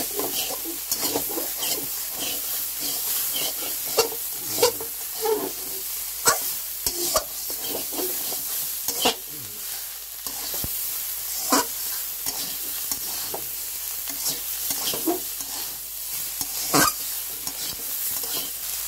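Water lily (shapla) stems being stirred and fried in a pan, a steady oily sizzle broken by repeated scraping stirs of the spatula, close and continuous with no voices.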